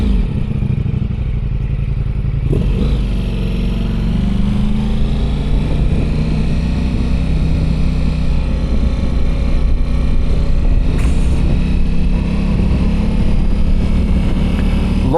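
BMW motorcycles ride onto an abandoned runway at Hunter Mountain, a steady, loud engine drone with clattering wind noise that rises and holds throughout, no voices.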